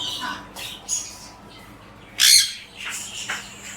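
A parrot squawks a few times, with one loud harsh shriek standing out among shorter, fainter calls.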